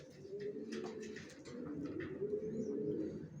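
Young racer pigeons, large long-bodied birds, coo continuously in a dense, close, rolling drone, with faint higher chirps and clicks above.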